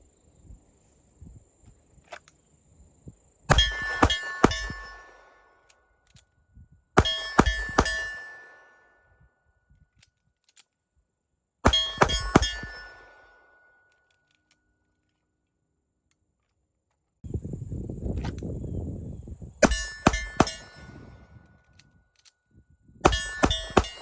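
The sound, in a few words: pistol reload drills firing Springfield Prodigy DS 1911 at steel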